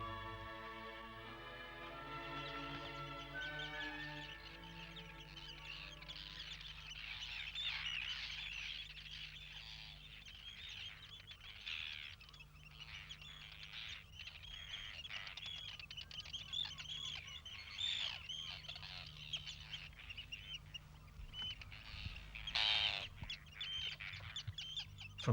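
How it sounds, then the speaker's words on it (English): Seabirds call around a remote lighthouse: a continuous chorus of honking, cackling cries from many birds, fairly faint and distant, with a steady low background. "From sunrise to sunset and on into the night, they hear the sound of seabirds."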